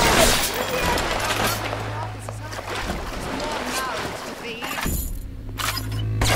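Gunfire sounds in the first-person shooter BioShock, with sharp broadband bursts and rapid shots over dense game noise. A player talks throughout, and a louder blast stands out near the end.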